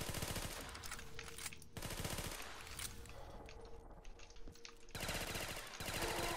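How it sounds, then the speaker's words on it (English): A submachine gun in a Call of Duty zombies game fires in sustained rapid bursts, dense and continuous with short breaks, heard close. "Alright, we got an actual weapon, a submachine gun."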